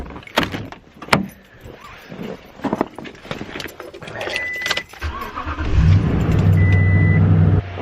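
A truck on a freezing morning: keys jingle and door clunks come first, then the engine catches and settles into a steady, loud idle close by.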